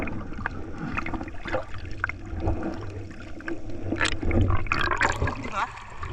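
A camera is dipped into clear sea water at a beach, giving a steady muffled underwater rush and gurgle with brief sloshing and bubbling as it moves beneath the surface.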